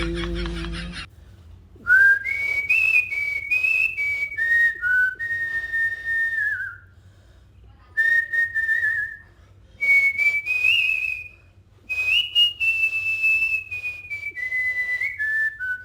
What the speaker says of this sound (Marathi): छान शिट्टी वाजवतात